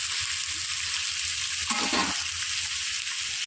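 Eggplant, potato and pumpkin fry together in a pan, giving a close, steady sizzle that runs unbroken throughout with no talking.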